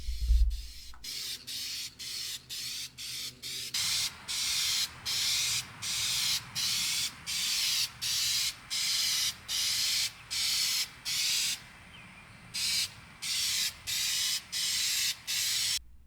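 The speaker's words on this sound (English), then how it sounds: "The paint I used was a rattle can, but it was color matched to the same paint coat as the vehicle" Short, even hissing bursts of a rattle can spraying clear coat over black paint on a fourth-generation Toyota 4Runner, repeated steadily at close range with brief gaps between passes.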